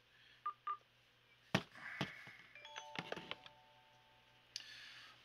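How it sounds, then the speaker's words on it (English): A tablet's ringtone goes off after its volume was turned up: a couple of short electronic beeps, then a loud chiming, tonal melody with sharp onsets, fairly close, with no speech over it. "Oh, no, the ringtone."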